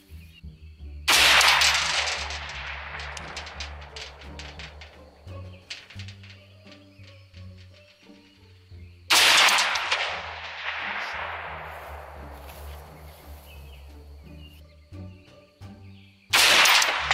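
Three loud, sharp .308 rifle shots ring out at a long-range shooting competition, spaced several seconds apart, each with a long rolling echo that decays, while faint bird calls and low background rumble fill the gaps.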